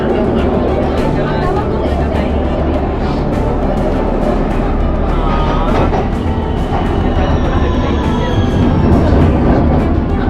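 A London Underground train runs between stations, a loud, steady rumble and roar of wheels on track filling the whole stretch, with faint squeals rising near the end.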